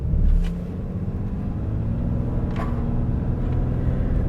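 A 2020 Ram 2500 heavy-duty pickup truck is held on the brakes while the engine revs, giving a steady, close, low rumble that swells briefly at the start and then holds even, with no talking.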